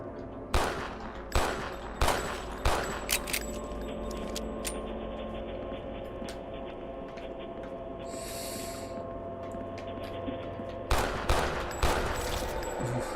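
Gunshots in a horror video game, a burst of sharp loud shots early on and another cluster near the end, with a steady ambient drone and a brief whoosh between them.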